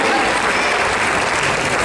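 Audience at a hypnosis show during a manga convention applauds steadily, a dense wash of clapping close by for a couple of seconds with a faint voice underneath.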